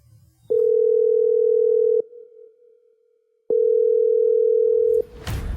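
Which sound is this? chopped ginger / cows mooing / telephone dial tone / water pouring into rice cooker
telephone dial tone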